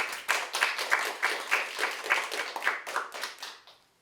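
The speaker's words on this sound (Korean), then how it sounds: "여러분 박수 환영해 주시기 바랍니다" Middle school audience at a youth debate event clapping to welcome a student speaker, a short burst of fairly sparse, distinct hand claps close by that tapers off and stops after about three and a half seconds.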